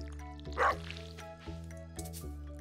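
Watering can splashing crops in Stardew Valley, a few short soft pouring and dripping bursts over steady looping game music.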